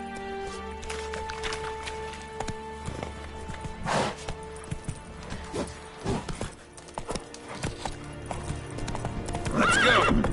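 Geralt's horse Roach gallops in The Witcher 3, its hooves drumming in a quick, continuous clip-clop close by, with a loud neigh near the end over game music.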